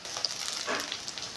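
Chopped tomato hits a pan of frying onion, crushed garlic and chillies, setting off a short burst of bright, crackling sizzle that stays close and steady without any voices.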